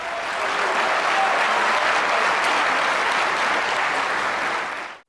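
A large audience applauds Zakir Naik in a loud, sustained wash of clapping that holds steady for about five seconds, then cuts off abruptly.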